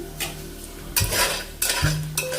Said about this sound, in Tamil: நல்லா வதக்கணும்னே பச்சை மிளகாய் போட்டுக்கணும்.